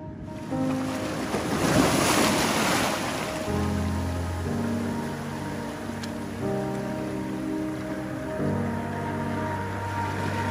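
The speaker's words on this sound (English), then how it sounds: "The sea's washing over this area." Sea waves wash over a muddy beach strewn with ammonite fossils and pyrite, a steady broad rush of surf with wind, loudest early and then settling into a constant wash beneath a low tonal hum.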